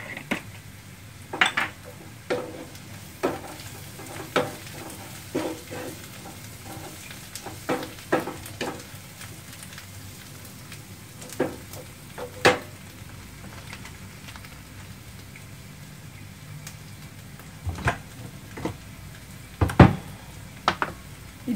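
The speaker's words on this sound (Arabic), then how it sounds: "انا ضربت تحرق مزيان هذا الشامبينيون" Mushrooms frying with chicken in a pan give off a steady, moderate sizzle, broken by frequent sharp clinks and scrapes of a utensil stirring against the pan. No voices are heard.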